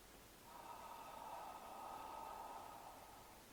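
A soft, breathy whispered "ah" from an Alexander Technique vocal exercise is held steadily for about three seconds, faint and airy, with no other sounds around it.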